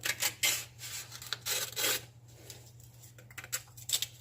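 A Mora Companion knife blade scrapes and rasps across sandpaper in a few short, faint strokes, close by and without talk.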